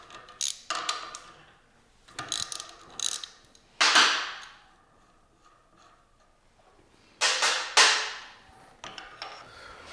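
A ratchet wrench loosens the main bearing caps on a Chevy small block V8, clicking in several close, rapid bursts separated by quiet pauses.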